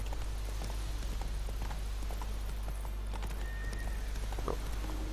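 Horse hooves clip-clopping at a steady run in The Witcher 3, a continuous close rhythmic beat over a low game hum, with a brief whinny near the end.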